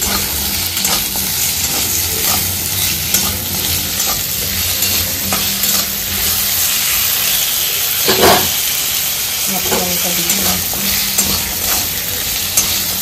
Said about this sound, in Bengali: একটু ভাজা হোক, একটু আদা বাটা দিলে।